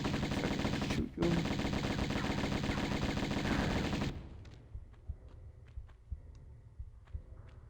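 Rapid, sustained video game gunfire rattles loudly for about four seconds with a brief gap, then gives way to scattered quieter shots and clicks.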